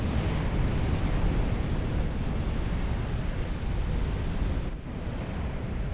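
Fire in Dark Souls 2's Iron Keep, heard as a steady, loud roaring rush of flames, broad and unbroken for several seconds, with no talking.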